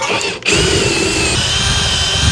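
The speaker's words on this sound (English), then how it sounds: "when I drill into this hole, it meets the big hole perfectly" A power drill bores a hole into a wooden 4x4 post, the motor starting after a brief pause and then grinding loudly and steadily through the wood at close range.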